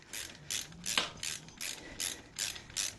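A hand ratchet clicks in quick repeated bursts, about seven strokes in steady rhythm, as a bolt with blue threadlocker is run in on mini floorboards of a 2008 Harley-Davidson Sportster 883C, close and clear with no talk.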